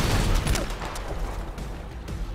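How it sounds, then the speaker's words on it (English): Sustained gunfire in The First Descendant, a loud cluster of shots at the start settling into a steady crackle of continuous firing for a couple of seconds. "One of you is shooting me in the back"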